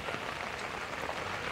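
Steady, dense heavy rain pouring down in Sri Ganganagar, India, a continuous hiss with scattered pattering drops, close and fairly loud with no voices.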